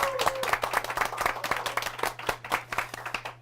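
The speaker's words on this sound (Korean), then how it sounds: "박수 부탁드리겠습니다." A small audience at a book forum applauds a guest author, with sharp individual claps standing out against a light background hum. The sparse, uneven rhythm suggests only a modest number of people.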